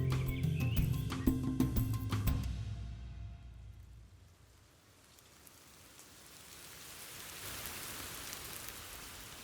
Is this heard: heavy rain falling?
yes